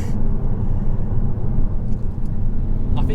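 A Mk3 Audi TT Coupe with traction control off spinning its wheels: a loud, close, continuous low engine and road rumble heard from inside the car, with a brief faint tick near the end.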